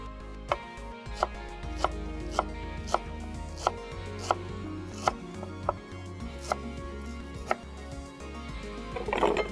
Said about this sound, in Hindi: इसी तरीके प्याज हमने लेनी है और प्याज को भी हमने जुलियन करना है